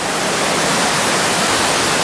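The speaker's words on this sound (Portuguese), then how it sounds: "muito barulho da cachoeira" A loud waterfall near a cave, a dense, steady roar filling everything with no breaks or other sounds.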